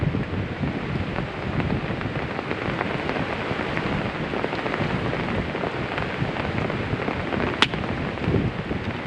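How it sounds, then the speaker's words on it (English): Heavy rain drumming on an umbrella during a windy wilderness bushcraft camp, a loud, dense, unbroken patter close by that fills the whole stretch with no talking. "the rain on the umbrella"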